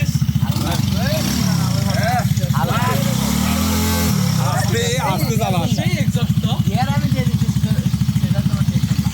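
A go-kart engine at a go-kart track in Bogura revs hard with a loud, rapid chattering pulse as it is driven, briefly dipping in pitch, while people talk over it.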